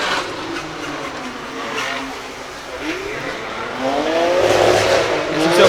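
A Nissan 300ZX drift car at a British Drift Championship qualifying round in Birmingham runs at full throttle, its engine note rising and growing louder toward the end, with tyre noise and a commentator's voice mixed in.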